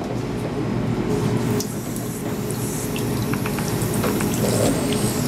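Water runs continuously from a drinking fountain, a steady close splashing stream with small clicks and shifts, faint children's voices in the background.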